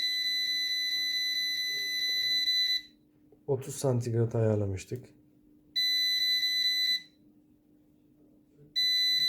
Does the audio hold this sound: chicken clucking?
no